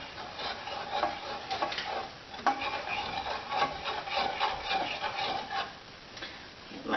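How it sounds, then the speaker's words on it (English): Honey and butter being stirred in a pot, a steady scraping, rubbing sound of a spoon against the pan, fairly close and moderately loud, with small rasping strokes throughout and no talking. "Give it a stir."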